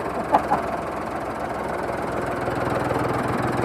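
A 1966 Ford 4400 industrial tractor engine idles steadily and close by, a continuous low rumbling drone with a fast mechanical rattle from valves needing adjustment, a couple of brief knocks at the start.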